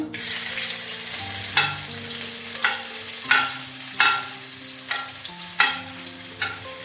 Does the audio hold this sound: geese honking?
no